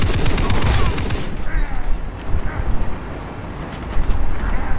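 Rapid bursts from a mounted gun in the Far Cry 3 co-op shooter ring out loud and close at the start, then give way to scattered shots and explosions over rumbling background.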